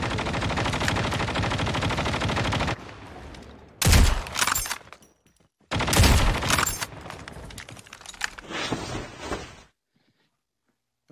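Rapid automatic gunfire in a competitive shooter game scrim, loud dense bursts that cut off sharply, then several shorter volleys separated by near-silent gaps.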